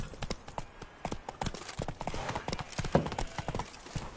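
Hooves of the horse Roach trotting in the video game The Witcher III: Wild Hunt, a steady, close clip-clop rhythm of quick repeated hoofbeats throughout.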